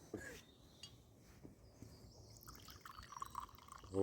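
Homemade Shiraz wine poured into a glass at close range, a faint liquid trickle with small drips over a few seconds, quiet and alone with no talk.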